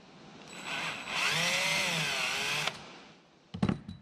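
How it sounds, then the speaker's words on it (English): A power drill bores through plexiglass while match drilling holes during an aircraft wing build, a rising whine that runs for about two seconds and then stops, followed by a few knocks and handling clatter. "we're match drilling through the plexi and then countersinking the holes"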